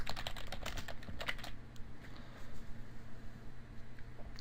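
Computer keyboard typing while entering a page heading in WordPress, a rapid burst of close clicky keystrokes in the first second and a half, then a quieter stretch with a few scattered taps over a steady low hum.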